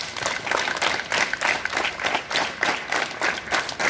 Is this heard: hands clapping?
yes